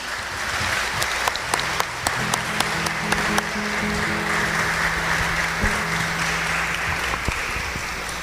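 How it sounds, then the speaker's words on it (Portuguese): Sustained applause from a church congregation at a Catholic Mass, dense and steady clapping with a few sharper claps standing out, a low held tone running underneath, no one speaking over it. "As nossas palmas com um agradecimento a Dom Orani"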